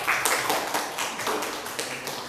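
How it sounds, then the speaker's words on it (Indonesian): Classroom applause for students, a short burst of steady rhythmic clapping from a small group, fairly soft and heard alone without talk. "Yang sebelum tepuk tangan dong buat Irul dan Sofan"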